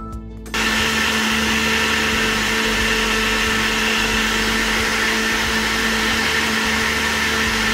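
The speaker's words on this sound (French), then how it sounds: "Maintenant je vais commencer à mélanger." An electric mixer whirs steadily through crêpe batter with flour and cocoa, starting abruptly after a moment and holding a loud, even motor whine to the end.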